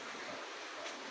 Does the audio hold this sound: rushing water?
yes